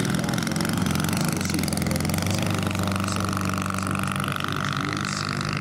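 A Valach VM 210cc engine with open exhaust runs on a half-scale Bowers Fly Baby model aircraft, a steady, moderately loud droning hum with a slight throb, continuous for the whole span.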